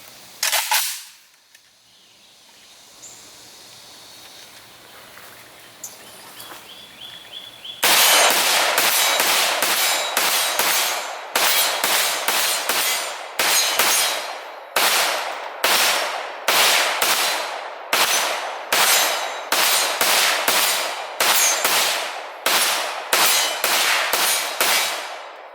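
A GF3 rifle is fired at targets in a long run of sharp, loud gunshots. The shots come one after another at a steady, fairly quick pace, each with a short ringing tail, after a quiet start with some handling noise.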